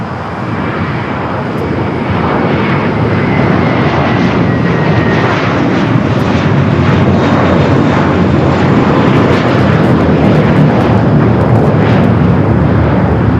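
An American Airlines Boeing 737-800 spools up and rolls for takeoff on runway 25 right at LAX, a loud, sustained jet engine roar that builds over the first seconds and then holds powerfully without speech.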